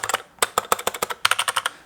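Rapid typing on a budget mechanical keyboard with mismatched keys: a close, crisp stream of clacky keystrokes in quick bursts with a brief pause, heard alone.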